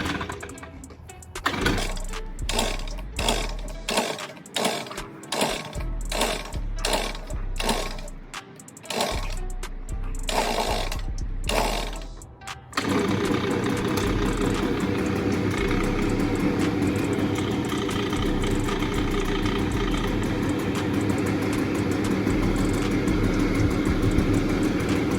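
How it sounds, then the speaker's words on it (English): A leaf blower's small engine is pull-started, giving about a dozen rhythmic rasping cranks before it catches, then running with a loud, steady high-revving drone for the rest of the clip. "see if we can get this blower to start"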